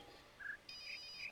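A phone in The Witness video game gives a faint electronic ring, a short tone followed by a longer warbling trill, heard alone and quiet.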